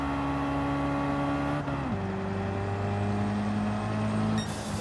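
A race car engine in the video game Gran Turismo 7, held flat out in second gear, droning loud and steady with a sharp pitch drop partway through and then holding a constant tone, with no one speaking.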